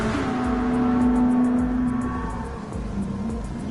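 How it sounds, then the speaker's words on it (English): Race car engines roar at the Fuji circuit in Gran Turismo 7, a loud, steady, continuous drone of several cars at high revs with no speech. "Listen to those engines roar."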